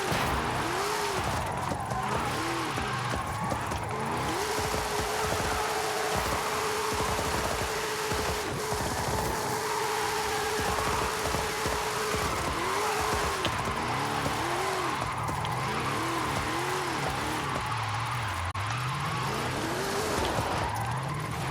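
A Lincoln Continental drifting in Forza Horizon 5, a continuous loud engine roar that rises and falls with gear changes, plus long wavering tire squeals through the slides, with no talk.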